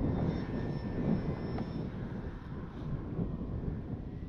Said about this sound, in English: That's a good flying plane.